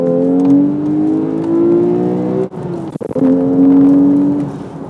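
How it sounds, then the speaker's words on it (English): A Porsche 911 GTS sports exhaust revs loudly up and down in second gear, with a brief drop and crackle as the engine briefly cuts before climbing again. "I love the sound of this sports exhaust as well"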